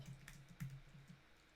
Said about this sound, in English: Typing this all out